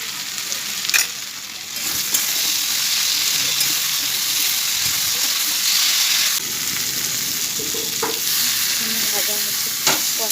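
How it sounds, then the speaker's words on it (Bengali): Ginger, cumin and chilli paste frying in a pan, a continuous loud sizzle with scraping spatula strokes and occasional clinks, no talking. "ভাজা হচ্ছে, কষানো হচ্ছে।"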